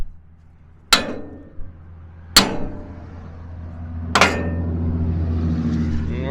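A hammer taps a worn pin on a farm plow back down: three loud, ringing metallic strikes spaced a second or two apart, heard up close over a steady low hum.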